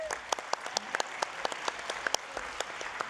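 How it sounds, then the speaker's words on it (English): Applause at a Los Angeles County Board of Supervisors meeting: a modest, scattered round of clapping with distinct individual claps, fairly close and continuous. "Please give her a big round of applause."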